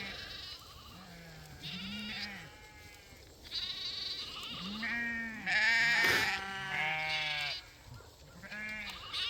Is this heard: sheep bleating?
yes